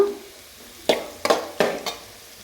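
Carrots fry in a pan while being stirred, giving three or four close scraping, sizzling strokes in quick succession over a soft background sizzle, with no talking.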